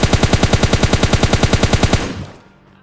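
Rapid automatic gunfire in PUBG Mobile Lite, about twenty evenly spaced loud shots in a steady burst for two seconds, then a short fading tail with no talk.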